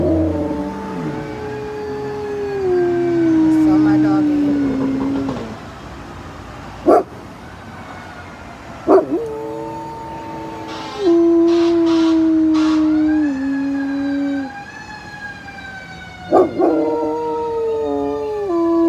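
A dog howls in long, wavering, rising and falling tones, mimicking a siren-like sound, with brief sharp noises between howls and no talking.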